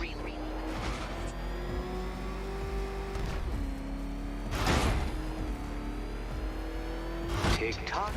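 Batmobile engine from Batman Arkham Knight revving with steady harmonic drone and rising pitch sweeps, loud and close, punctuated by a couple of bursts and scrapes, with talk over it.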